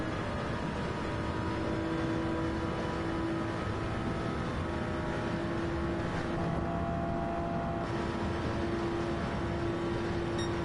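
A Toyota Supra race car in the Daytona video game drives at speed, a constant engine drone with a steady whine and a faint shift in pitch, at an even, moderate level throughout with no talk.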